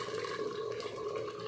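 Water poured into a pot of chicken curry (kulambu) with turmeric, chilli powder, coriander powder, garam masala and coconut paste, a steady close splashing gush throughout.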